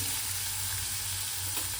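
Onions fry in oil in a kadhai with a continuous bright sizzle, close and steady, with no voices over it.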